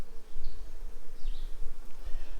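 Honeybees buzz faintly and steadily around an open hive during an inspection, with a low rumble underneath and brief higher buzzes as individual bees pass close by.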